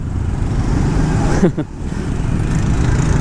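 Motorcycles in morning traffic in Canggu, Bali: a steady engine drone and road rumble, with one bike passing close by in a brief swelling whoosh.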